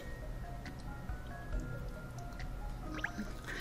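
Water drips through a leaky roof in the Layton's Mystery Journey video game, small wet plinks and squishy droplets falling irregularly over a steady low hum of game ambience.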